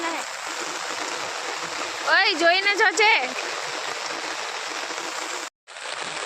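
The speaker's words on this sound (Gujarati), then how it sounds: "મોટી નેરમાં પણ વરસાદનું પાણી આવી ગયેલું છે જો કેટલું પાણી જાય છે" Steady rushing rainwater flows continuously through a large stream, loud and close, with a person briefly calling out over it partway through.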